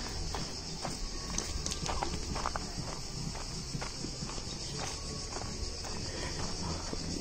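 Horses walking near Komani Lake in Albania, with faint scattered hoof clops in an outdoor setting under a steady high insect or cricket drone; the sound is quiet and continuous with no speech.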